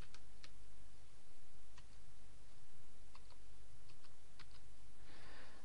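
A computer keyboard is tapped to enter a security code, sparse light clicks spaced irregularly over a steady background hiss, close and faint.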